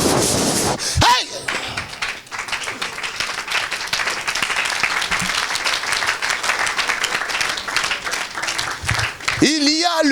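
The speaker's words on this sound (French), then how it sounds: "Acclamez pour Jésus-Christ." A church congregation at an evangelistic service applauds and cheers for Jesus Christ, dense sustained clapping and shouting filling the room for several seconds, with a voice calling out over it at the start and end.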